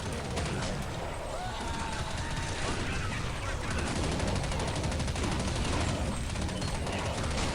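Rapid MP5 submachine gun fire in the online shooter Counter-Strike Online zombie mode, a dense continuous burst of shots and game noise filling the whole stretch, loud and close.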